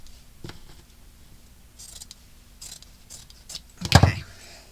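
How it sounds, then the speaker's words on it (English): Scissors cut through fabric selvage edge in a few faint snips, then one louder, crisp close cut near the end, with no voices. "Let's cut off this selvage edge."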